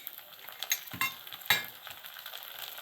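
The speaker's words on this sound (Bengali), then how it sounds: "এবার আমি আদা বাটা দিচ্ছি 1 চামচ।" A spoonful of ginger paste fries in a pan, giving a soft, quiet sizzle broken by a few brief stirring scrapes and light clinks.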